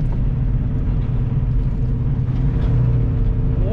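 A semi-truck rolls slowly through a tight turn on a bumpy road along Boulder Crest Road, its engine a loud, steady low rumble from inside the cab.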